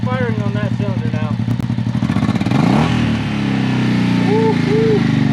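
A Honda Shadow motorcycle engine fires up and runs after a new spark plug is fitted, a loud, close, rough rumble with revving, while a person talks over it.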